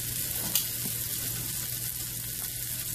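Ground sausage browns in a hot pan, giving a steady, close sizzle with constant crackling hiss. A faint utensil scrape sounds near the start, and no one speaks.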